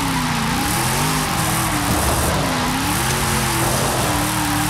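A car drifting in Forza Horizon 5, its engine revving loudly in rising and falling sweeps as it slides around a small roundabout, with a steady roar and tire noise filling the clip.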